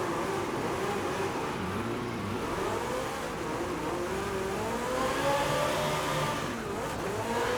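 A drift car engine in Forza Horizon 5 revs hard and steadily, its pitch rising and falling as it holds a slide, loud and close with no talking.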